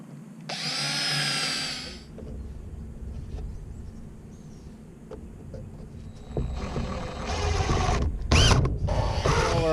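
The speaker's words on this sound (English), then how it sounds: "So I'm going to drill those out and install them." A power drill whirs in several bursts while bolting or drilling into wooden door stops during a chicken tractor build. A long first run is followed by short clicks and handling noises, then louder, rougher drilling near the end, close and with no speech.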